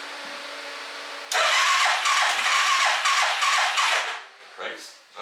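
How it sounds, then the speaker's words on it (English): An ATV engine, just fitted with a new solenoid, cranks briefly and catches, then runs loudly and steadily close by for several seconds before easing down with a few uneven revs. "Put you guys up here and you guys will see the first crank."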